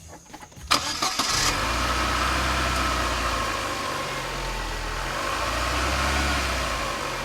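A car engine held at a steady idle of about 1,000 RPM while a fuel-system cleaning kit is run through it, a continuous close mechanical drone after a brief rattly start.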